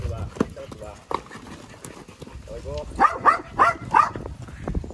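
A dog barks several times in quick succession at a ranch where ticky young foals are being treated, sharp mid-range barks close by, mixed with people talking in Portuguese and hoof clatter.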